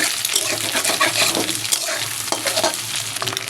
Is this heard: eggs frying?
yes